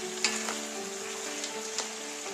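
Steak fajita meat fries on high heat in its own juices, a steady close sizzle with occasional small pops and crackles running the whole time, no voices.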